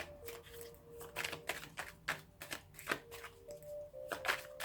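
An oracle card deck is shuffled by hand in a quiet room: a close, crisp series of quick riffling bursts with a soft, fluttering paper rhythm.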